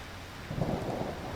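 Rain falls steadily, and a low rumble of thunder swells in about halfway through. It is a short, fairly quiet stretch of outdoor storm ambience with no voices.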